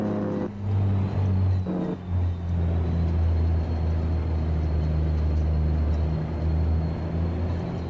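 A Mack B61 semi truck rolls along a rough road with a deep, steady engine drone and low tonal hum, briefly dipping and rising as it works, no talking over it.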